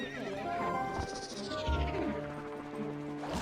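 A horse in The Legend of Zelda: Twilight Princess HD gives a long, loud whinny, with clip-clopping hooves and other game sounds around it.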